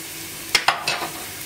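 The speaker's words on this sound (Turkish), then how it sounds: "Hemen soğanlar kavruldu." Onions sauté in a pan on the stove with a soft sizzle, broken by two quick stirring scrapes and a few lighter ones.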